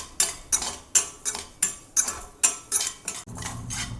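Moong dal is stirred and roasted in a pan: eight or so regular scraping strokes of a utensil against the pan, close and fairly loud, ending in a low steady rumble with no talk.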